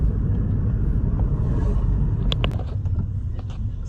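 A classic Type G car rumbles low and steady as it arrives on the Galibier mountain climb during a vintage car event, with a few faint clicks over the engine.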